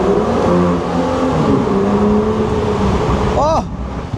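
An open-top Aston Martin V12 Speedster pulling away hard in first gear, its 700-horsepower rear-drive V12 roaring loud and close as revs climb, then a sharp rising surge before a brief lift.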